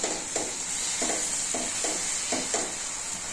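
Chilies cook in oil with chili powder in a pan for a curd snack, giving a soft continuous sizzle under a series of rhythmic scraping stirs, about one every half second, fairly faint throughout.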